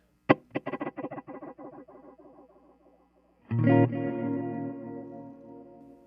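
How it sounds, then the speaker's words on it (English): A single plucked guitar note through a Ventris Dual Reverb with diffusion turned down repeats as distinct, decaying echo taps, followed by a strummed chord that rings out with a thick sustained tail. "when I turn down the diffusion, the individual taps are more noticeable"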